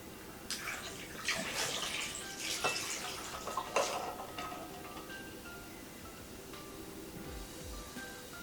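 Water poured over ice in a cauldron during a home ritual, a soft splashing trickle with faint clinks, continuous and fairly quiet throughout.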